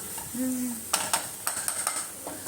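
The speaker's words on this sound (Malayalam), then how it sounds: "ഇനി എന്താ ഒന്നുകൂടെ വഴറ്റി കൊടുക്കാം" Masala being sautéed in a pan for a squid dish, a soft sizzle first, then a cluster of quick spoon scrapes and knocks against the pan, close, with a brief murmur near the start.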